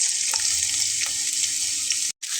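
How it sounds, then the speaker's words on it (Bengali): Chopped onion fries in hot oil, a loud, dense, continuous sizzle close by, cutting off abruptly near the end before resuming. "এখন আমি তেলের ভিতরে পেঁয়াজটা দিয়ে"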